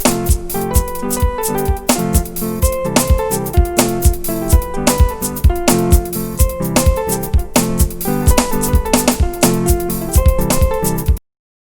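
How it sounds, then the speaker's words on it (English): Piano playing a right-hand melody over left-hand chords, the melody moving independently of the chord progression; steady rhythmic notes sound close and alone for about eleven seconds before stopping. "The next step is to actually play melody on the right hand, a melody that doesn't actually follow the chord progression."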